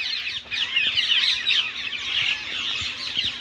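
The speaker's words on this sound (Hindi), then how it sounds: "जहाँ पे तोते बैठे हुए हैं और ची ची कर रहे हैं" Many parrots chirping and squawking overhead in trees in Punjab in a busy, continuous chorus, fairly close, with faint soft thumps underneath.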